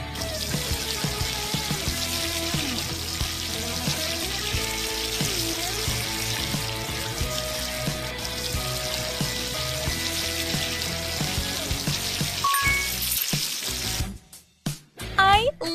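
Shower water from a kids' hair salon video game, where cartoon rock-star animals are washed and styled, runs as a steady splashing spray beneath continuous cheerful game music, then cuts off near the end.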